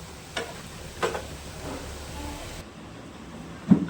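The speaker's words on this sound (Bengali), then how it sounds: "এবার এগুলো ভাজা হয়ে গেছে, এগুলো আমি একটা একটা করে তুলে নেব।" Banana kebabs frying in hot oil, a low, soft sizzle with a few light clicks of utensils and a sharper knock at the end.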